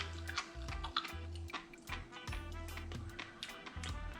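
Repeated crisp crunching and chewing of fresh raw sea grapes up close, irregular bursts over a steady low hum.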